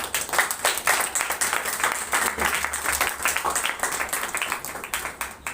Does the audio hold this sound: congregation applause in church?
yes